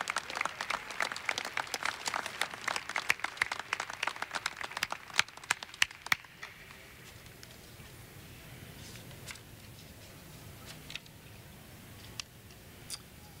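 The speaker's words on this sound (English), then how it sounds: "Let's give these guys one more round of applause" Audience applause for a presentation honoring a safety group, dense clapping for about six seconds that then thins to scattered claps and quiet room noise.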